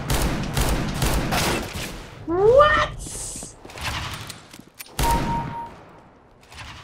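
Gunfire in Counter-Strike: Global Offensive, with a rapid run of sharp shots at the start, a whooshing effect, and a couple of later isolated bangs, while a player speaks briefly.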